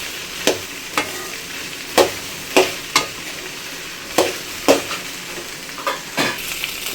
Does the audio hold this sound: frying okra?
yes